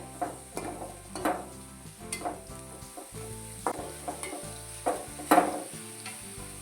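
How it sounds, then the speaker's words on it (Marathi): Chopped jaggery melting in a pan while being stirred, a soft sizzle under a regular series of clear spoon scrapes and taps against the pan, close and fairly quiet. "आता ह्याला चांगलं मिक्स करू आपल्याला गुळ ह्याच्यामध्ये वितळून घ्यायचा आहे"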